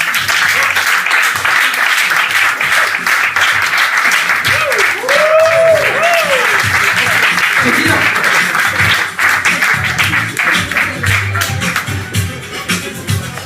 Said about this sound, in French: Applaudissez-le, il arrive.